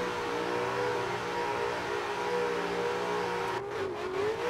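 A car engine in a drift racing game on the Misano track, played with a Moza R9 wheel: a steady, loud, high revving drone with a gliding pitch, rising and dipping briefly near the end as the gear changes.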